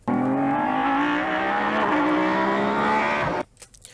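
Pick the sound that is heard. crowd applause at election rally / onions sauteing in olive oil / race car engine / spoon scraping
race car engine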